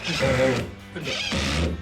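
A power drill is pressed down into work while building a sim racing studio, whirring loudly in two sustained bursts with a short dip between them, close and steady.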